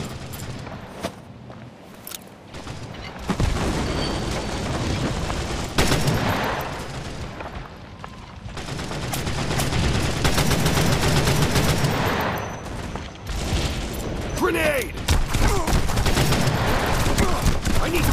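Sustained gunfire from a WW2 first-person shooter on Android, World War Heroes, with bursts of automatic fire and scattered shots running through the whole stretch amid game noise and occasional shouted voice.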